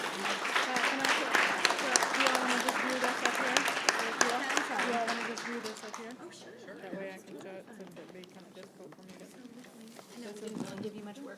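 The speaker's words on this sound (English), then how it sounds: "let's give a big round of applause for their owner, Jennifer Nally." Audience applause for a small cake-business owner at a pitch competition event, dense and steady clapping that fades partway through, with a voice talking over it.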